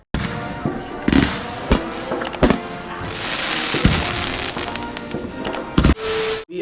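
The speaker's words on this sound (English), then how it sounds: "I'm gonna be setting off fireworks." Fireworks go off outdoors: sharp, loud bangs and cracks come at irregular intervals over a crackling background, with some brief voices in between.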